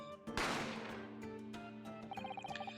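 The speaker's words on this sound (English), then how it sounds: "A gunshot rang out," A single gunshot in the video game The Great Ace Attorney Chronicles: one sharp crack that decays quickly into a fading tail, then soft musical tones ring underneath.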